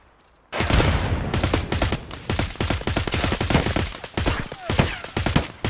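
Escape from Tarkov gunfight: after a brief quiet moment, loud rapid automatic fire erupts and continues in dense, sharp bursts of closely spaced shots, near and punchy throughout.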